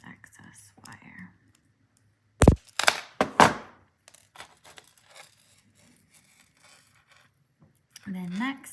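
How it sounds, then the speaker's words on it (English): Wire cutters snip excess jewelry wire while making a charm bracelet: a few sharp, close clicks and snaps in quick succession amid soft handling noise and some quiet speech. "And then I'm going to cut off the excess wire."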